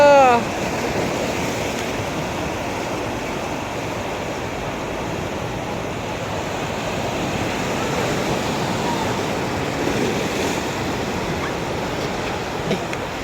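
Large ocean waves roll and wash steadily onto the shore at a beach resort in Naic, Cavite, a constant broad surf roar with a faint voice at the very start.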